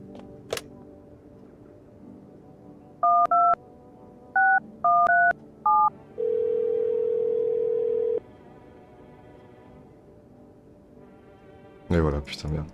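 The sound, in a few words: phone call dialing in video game No, I'm not a human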